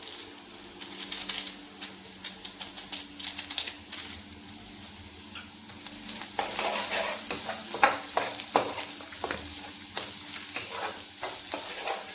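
Maggi noodles are stirred in a pan with salt, chili powder and the packet masala, giving quiet, rhythmic scraping strokes over a soft frying sizzle that grows busier and louder partway through.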